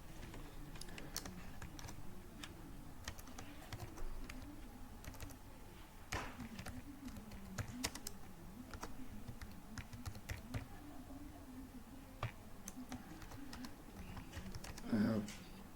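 Soft, irregular keyboard tapping as someone types a message on a computer, quiet and close over a low background hum, with scattered clicks spread through the whole stretch.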